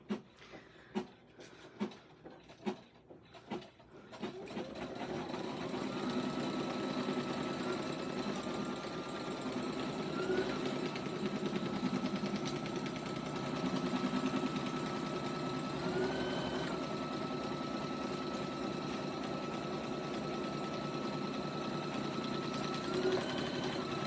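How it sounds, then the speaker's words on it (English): An embroidery machine runs the final outline stitch of an appliqué on a sports ball design, a steady mechanical whir with rhythmic stitching that holds level for about twenty seconds after a few quieter clicks at the start. "now we're going to run the final placement, or the final outline stitch at the same time. And let that run."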